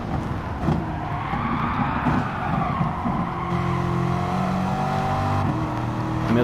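A Corvette race car laps Monza in a racing video game, its engine note climbing and shifting through revs with brief tyre-scrub noise, other cars' engines humming nearby.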